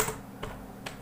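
Quick keystrokes on a computer keyboard while entering text into an Excel spreadsheet, a few sharp clicks spaced out in a short burst, close and fairly quiet.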